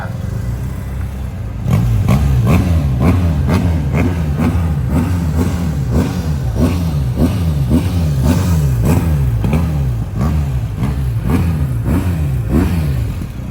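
A loud motorcycle engine revs up and down in a steady repeating rhythm while riding slowly, close by, with no voices over it.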